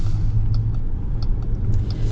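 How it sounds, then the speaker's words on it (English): A 2025 Jeep Wagoneer Overland's inline-six engine gives a steady, smooth low rumble from close by, a continuous drone with faint higher ticks and no talking. "the inline 6, oh, it's got some power. It's super smooth."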